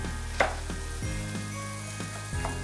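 Chopped celery stalks sauté in a sauce for a lasagna with polenta, producing a steady low sizzle with a few soft spatula taps and scrapes and a low background hum.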